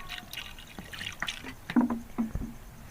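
Water poured into a karahi of partly cooked mutton, trickling and splashing in uneven bursts with a few louder gurgles, close and alone without talk.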